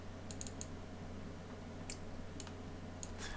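Small, faint clicks come from a computer mouse during a Microsoft Word session, some in quick pairs and scattered over a low steady hum.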